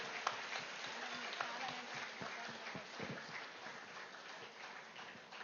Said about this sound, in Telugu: ఆనాపానసతి మెడిటేషన్ కి ఇంకా గట్టిగా చప్పట్లు.